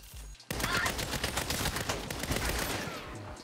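Gunfire in Saints Row (2022) on Xbox Series X: after a brief low rumble, a dense, rapid stream of shots starts abruptly and keeps up steadily for about three seconds, fairly quiet and without talk.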